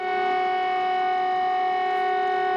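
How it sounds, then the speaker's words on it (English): An air raid siren in Ukraine sounds a sustained, loud, steady wail of layered tones, holding unbroken with no voices. "and air raid sirens are frightening to watch"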